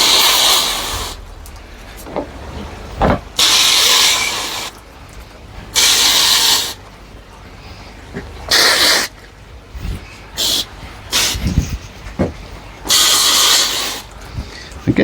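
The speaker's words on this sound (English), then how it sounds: "Just mist some of these leaves" A spray bottle on a mist setting sprays dusty plant leaves in a garden in a run of loud hissing bursts, each about a second long. Quieter handling sounds fall between the sprays, and a voice can be heard now and then.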